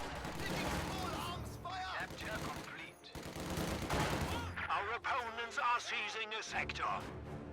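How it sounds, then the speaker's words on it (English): Gunfire from a strategy video game battle: rapid shots and machine-gun-like bursts crackle steadily at moderate volume under a commentator's continuous speech. "trying to get shots off with his sniper"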